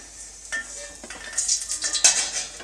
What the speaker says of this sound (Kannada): ಇವಾಗ ನಾನು ಅದನ್ನು ಒಂದು ಪ್ಲೇಟಿಗೆ ತೆಗಿತಾ ಇದ್ದೀನಿ